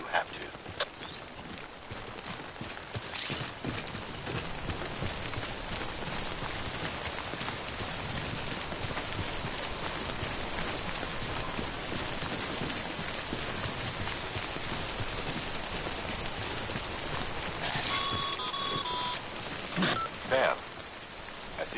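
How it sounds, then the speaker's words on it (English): Steady timefall rain from a PS4 game pours across the full length on the ground, a dense continuous hiss with scattered drop patter and faint footsteps. "Don't stay out in the rain any longer than you have to."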